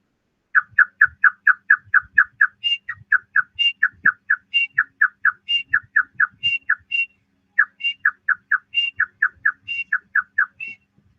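A voice whistles an imitation of the titar, a francolin bird, as heard from afar: loud, close repeated phrases of quick, even notes, each phrase ending in a few higher, sharper notes, with short pauses between rounds.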